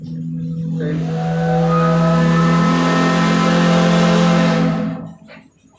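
A steam whistle on the Taft engine at the Rollag steam show blasts one loud, sustained chord for about four seconds, then cuts off, with faint outdoor ambience before and after.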